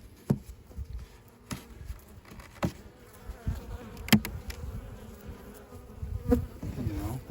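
A honeybee swarm in a backyard hums steadily at close range, its dense buzzing broken by sharper passes of individual bees flying near, with occasional soft taps and rustles.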